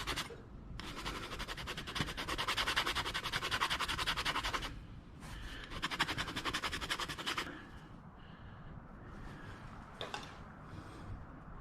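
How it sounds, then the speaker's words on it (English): The buffer from an old-style patch kit roughens a bicycle inner tube on a Rad Power Bike: two long bursts of fast, harsh scraping close up, then quieter scattered scratches. "There's a buffer on the top of it to roughen up the inner tube."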